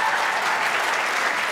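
Loud, dense applause rolls from an audience at a netball awards event, a full, continuous burst of clapping with a faint crowd murmur beneath and no talk on top.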